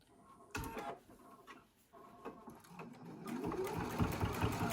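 A sewing machine stitches straight across the lining at the top of a fabric wine bag, running in short bursts that settle into a steady, close mechanical whir toward the end.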